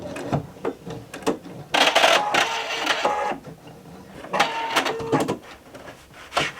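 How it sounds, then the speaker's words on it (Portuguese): A Pfaff embroidery machine stitches a butterfly design, giving bursts of rapid mechanical whirring and clicking that start and stop in short runs, close by and fairly loud with no talking. "Vou bordar mais uma borboletinha."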